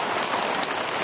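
Steady rain falling on a surface outside a workshop, a dense, even hiss of many drops with a few sharper nearby spatters, close and continuous with no talking.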